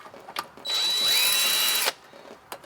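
A power driver whirs steadily for about a second while backing out 1/4 inch bolts from the back cover of a Sta-Rite spa pump, with close, loud whining and a few handling clicks before and after.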